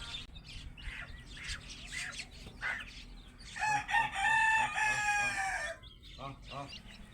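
Chickens cluck and squawk close by as chicks are fed small bits of roti, with a rooster-like burst of loud crowing calls in the middle and softer peeping chicks around it.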